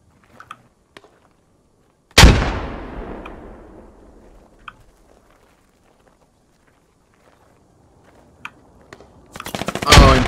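Gunfire in the military shooter Squad: faint distant pops, then one loud close shot with a long echoing tail, more scattered faint cracks, and a heavy burst of fire near the end.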